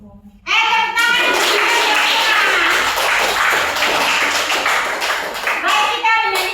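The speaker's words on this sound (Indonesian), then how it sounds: "Tepuk tangan, Ibu. Tepuk tangan." Children in a classroom break into loud, dense hand clapping that lasts several seconds, with young voices heard just before it starts and again as it ends.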